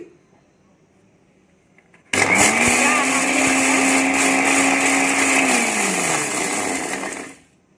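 An electric mixer grinder grinds dried chillies into flakes, starting abruptly after near silence and running as a loud, steady whirring roar with rattling for about five seconds before winding down.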